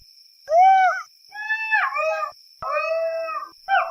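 A jackal howling at night, four drawn-out wavering calls rising and falling in pitch, loud and close, over a thin steady high insect-like whine, no talk.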